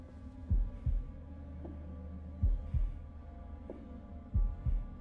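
Heartbeat pulse from the horror video game Devil in Me, a steady lub-dub throb repeating three times, deep and close over a low ambient hum.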